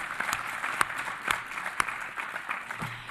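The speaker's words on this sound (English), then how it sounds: "Please, a warm applause." Warm applause from a conference audience after a panel on data governance for official statistics, a moderate, uneven patter of clapping with a few sharper claps standing out.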